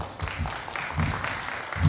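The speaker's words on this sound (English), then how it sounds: "An applause for Elena." Audience clapping at a live stage show about soap bubbles and mathematics, a brief burst of many hands in a hall with a low rumble beneath, lasting under two seconds.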